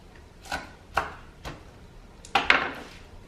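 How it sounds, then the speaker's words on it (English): Knife lightly chopping spinach leaves on a board, five crisp separate cuts with uneven gaps, the last two close together and loudest, close and clear with no talking. "So I'm just going to just lightly chop my spinach."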